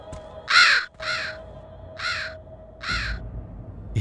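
A raven in the video game King's Quest 8 caws four times in harsh, evenly spaced calls, loud and close, over a steady low tone from the game's ambience.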